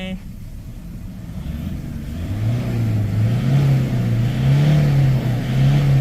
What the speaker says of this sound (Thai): เราก็ลองเบิ้ลดูซิมันเคกไหม